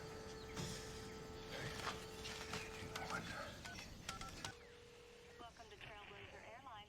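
Telephone keypad tones from a repaired phone being dialed in the film Plane: a steady dial tone, then a run of short touch-tone beeps over background noise and murmuring voices.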